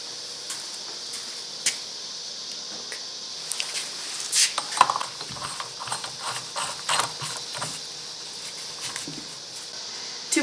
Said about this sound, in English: install the pulley on the new pump using the installer